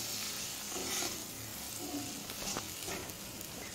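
Fish roe (maach manji) sizzling steadily in a pan with turmeric and salt, stirred now and then, a continuous close frying hiss with small crackles throughout.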